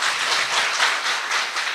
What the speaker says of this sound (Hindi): ताली बजा दो भाई अपने लिए।